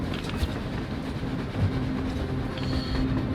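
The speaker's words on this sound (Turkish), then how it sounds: "Bir tren." A train rolls past in the video game Metro Exodus, a steady low rumbling clatter at moderate distance with faint squeals, no talk over it.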